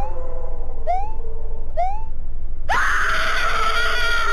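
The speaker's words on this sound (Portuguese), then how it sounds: "Por que tem o som de mulher gritando igual o daquele passo do Suicide Mouse, cara?" A woman's scream from the Suicide Mouse horror game: two short rising wails, then a long, loud, sustained piercing shriek, with no talking.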